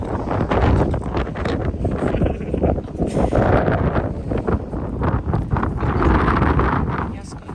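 Strong gusty wind buffets the microphone steadily throughout, with people talking underneath the roar.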